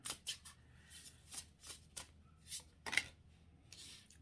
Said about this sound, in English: I'll shuffle some more.